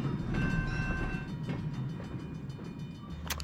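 Train rumbling past an albergue beside the tracks in Navellana on the Camino del Norte in northern Spain, a steady low roll of wheels and carriages at moderate distance with faint squeals, no talking.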